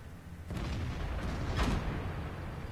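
In the tank battle game World of Tanks, heavy cannon shots boom out, two or three deep blasts with rumbling tails over a dense background of battle noise, with no voices.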